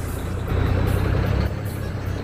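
Low rumbling truck engine in a truck driving video game, a steady loud drone with slight surges, no talk.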